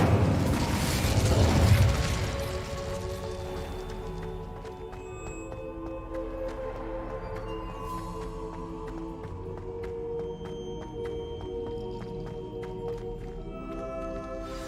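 The Incendio fire spell in Hogwarts Legacy on PS5, a loud burst with crackling whoosh at the start that fades into a sustained ringing, tonal magical shimmer.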